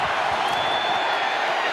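Loud, dense roar of a football stadium crowd at a Cowboys at Texans NFL game, a steady wall of cheering and shouting that fills the whole moment without any break.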